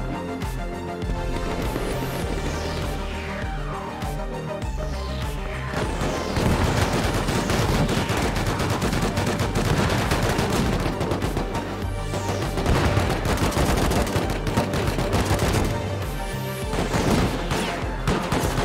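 Rapid automatic turret fire in a video game, sustained loud bursts of gunfire with crashing impacts and booms, continuous throughout, no speech.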